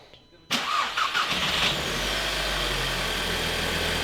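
A Volkswagen TFSI engine with a defective coil pack cranks briefly and catches, then settles into a steady, slightly uneven, wobbly idle, close and fairly loud.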